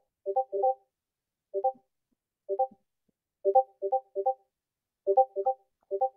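Short electronic phone notification chimes repeat in small clusters of two or three tones, clear and close against silence.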